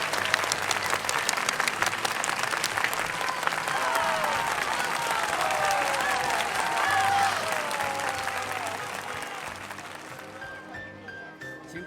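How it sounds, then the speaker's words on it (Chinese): Wedding guests applaud as the bride and groom exchange rings, a steady round of clapping with cheerful voices and a light melody rising underneath, fading near the end. "请大家用热烈的掌声一起见证新郎新娘这美好的时刻"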